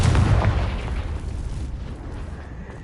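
A Confringo spell explosion in Hogwarts Legacy, a single loud booming blast near at hand that fades into a long rumbling decay.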